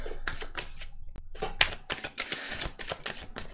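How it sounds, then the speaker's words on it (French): Tarot cards being shuffled and laid out, giving rapid papery riffles and soft slaps up close in a quiet room, with short pauses between bursts. "On va tirer quelques cartes"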